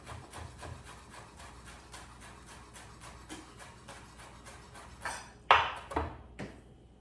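A knife chopping fresh parsley on a cutting board for seafood linguine, a steady run of quick, crisp taps, followed by a few louder clattering knocks near the end.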